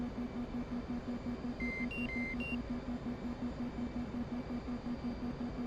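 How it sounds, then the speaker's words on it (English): Short electronic warning beeps in a fighter cockpit in the DCS flight game, a few bright tones near the middle over a steady droning hum and engine noise, no voices. "It's beeping because I likely bent the silly landing gear somehow"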